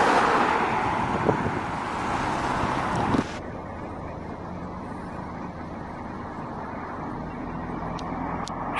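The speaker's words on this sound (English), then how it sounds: "you can hardly get across the road for traffic" Road traffic in Westhill, Aberdeenshire, rushes past as a steady broadband roar with wind buffeting, louder for the first few seconds before settling into a continuous lower wash of passing vehicles.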